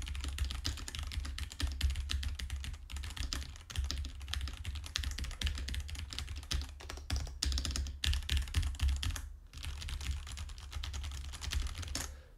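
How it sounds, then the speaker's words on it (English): Continuous computer keyboard typing picked up by an Asus ROG Carnyx gaming microphone, dense rapid keystrokes close to the microphone with brief pauses, over a low steady hum. "the reverberation from me typing down, is it coming up through the microphone?"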